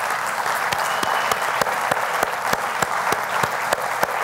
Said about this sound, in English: we just want to acknowledge our appreciation with applause at your loving efforts